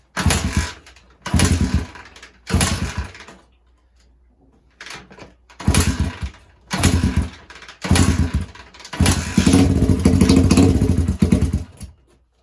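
A 1979 Honda XR80 motorcycle that sat unused for a year sputters through repeated short bursts of engine noise, each dying out after a second or two, before one longer run near the end.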